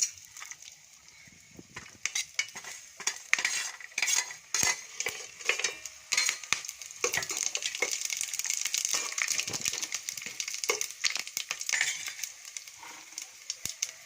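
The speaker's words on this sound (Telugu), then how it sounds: "ఆయిల్ హీట్ ఎక్కాక బిర్యానీ ఆకు, బిర్యానీ హోల్ మసాలాలు మొత్తం వేసేసుకోండి." Bay leaf and whole biryani spices crackle and sizzle in hot oil in a home kitchen, with irregular stirring scrapes and clinks of a utensil against the pan, quiet and close.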